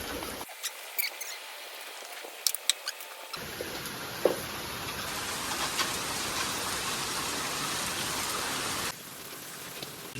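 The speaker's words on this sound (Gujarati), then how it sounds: "વરસાદ સારો ધીરે ધીરે સારો ચાલુ જ છે" Steady rain falls on a wet morning, a soft broadband patter that thickens into a constant hiss through most of the clip, with a few scattered louder drips and no voices.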